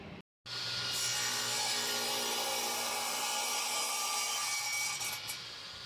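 A radial arm saw cuts a wooden board for a Shou Sugi Ban bird feeder, giving one steady, loud, broadband rasping whine that runs nearly unbroken for about five seconds after a brief silent gap, with no talking.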